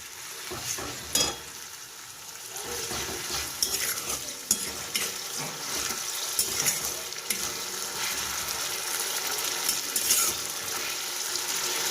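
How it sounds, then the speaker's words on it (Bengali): Ginger-garlic paste sizzling and frying in a pan, with a spoon stirring and scraping against the metal, close and continuous. "এই আদা রসুনের পেস্ট ভাজা হচ্ছে ঠিকই, ভালোভাবে ফ্রাই করছি"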